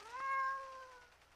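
A cat gives a single clear meow in a Sally Face Chapter 2 game scene, one short rising-then-falling call lasting about a second, fairly quiet and alone.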